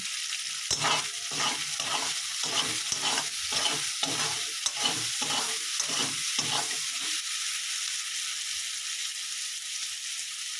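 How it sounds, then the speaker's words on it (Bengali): Sliced onions with a little salt and turmeric fry in a pan, with steady sizzle and a run of rhythmic stirring scrapes for several seconds before it settles into a continuous hiss. "পেঁয়াজটা ভাজার জন্য অল্প করে একটু নুন দিয়ে দেবো"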